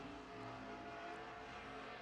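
Late model race cars roaring around the dirt oval at Central Arizona Speedway during a heat race, a steady, distant engine drone that holds evenly throughout.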